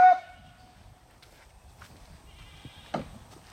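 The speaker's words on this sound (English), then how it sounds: "Goat feeding time." Goats at feeding time give a couple of short bleats, one at the start and another a few seconds later, amid faint shuffling and rustling in a quiet yard.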